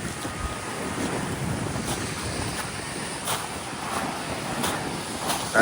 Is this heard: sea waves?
yes